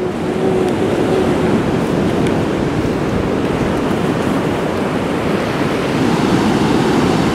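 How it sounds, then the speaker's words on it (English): Large ocean waves come in at high tide, a loud, unbroken roar of surf mixed with wind buffeting the microphone, close and constant, with no one speaking. "Look at the size of these waves coming in."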